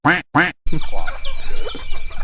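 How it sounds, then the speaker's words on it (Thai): Ducks penned on a small farm in Satun province, Thailand: two loud, close quacks in quick succession, then quieter squawks and calls over busy farmyard background noise. "นี่เป็ดโดนปรับทัศนคตินะครับ ทุกคน ดื้อเกินโดนจับขังเลยครับ"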